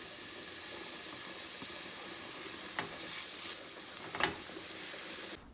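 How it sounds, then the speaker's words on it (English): Onions fry in a pan with a steady close sizzle, broken by a few louder scrapes and pops of stirring near the end. "Fry your onions until it is translucent."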